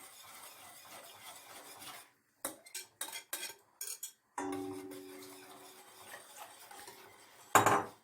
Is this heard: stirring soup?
yes